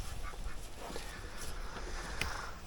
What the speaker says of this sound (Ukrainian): Заганяю гусей, бо то що не, не дадуть рибалити.